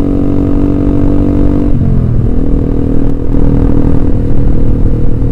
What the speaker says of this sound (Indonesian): Nggak kedengaran sih, knalpotnya cuma rrrr gitu aja.